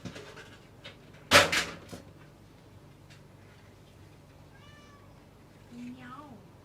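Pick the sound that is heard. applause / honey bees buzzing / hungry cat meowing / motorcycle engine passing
hungry cat meowing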